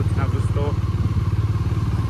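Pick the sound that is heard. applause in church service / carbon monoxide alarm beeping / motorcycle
motorcycle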